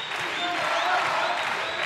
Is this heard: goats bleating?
no